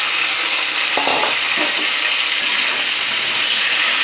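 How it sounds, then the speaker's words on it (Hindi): Jackfruit pieces and fried potatoes sizzle steadily in oil in a pan, a continuous bright hiss with a few stirring scrapes near the start. "अब उसमें डालेंगे कटहल और थोड़ा सा भून लेंगे"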